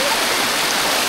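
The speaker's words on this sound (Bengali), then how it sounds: "জলপ্রবাহ নেমে আসছে এটাতে এখানে স্রোতে পাকের মতো সৃষ্টি হয়" Loud, steady rush of stream water pouring down beside a waterfall at Kupikata Khum, a broadband roar that fills the short moment without a break.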